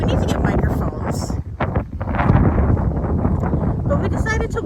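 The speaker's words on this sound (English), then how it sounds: "It is windy." Gusty wind buffets the microphone outdoors on a walk toward Magic Kingdom from the Grand Floridian, rumbling in uneven bursts under people talking.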